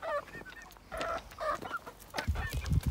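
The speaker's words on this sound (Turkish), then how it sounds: "Tavuklarım da burada." Several chickens cluck and squawk close by in short bursts, with a deeper honk-like call near the end.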